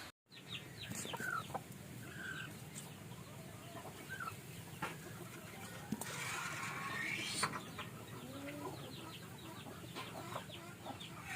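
Chickens cluck steadily in a farmyard as hens guard their eggs, with layered calls from several birds close by and a continuous chorus of wild birds chirping in the background.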